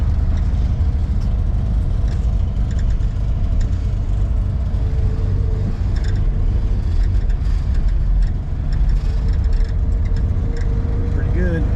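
A 1960 Plymouth Savoy with its big Chrysler engine runs steadily, a low continuous rumble close by, with people talking over it.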